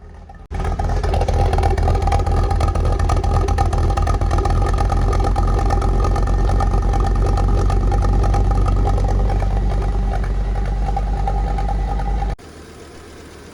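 A 1983 Audi S5 Coupe idles steadily for about twelve seconds, its exhaust putting out a loud, even low rumble with a constant drone that cuts off abruptly near the end.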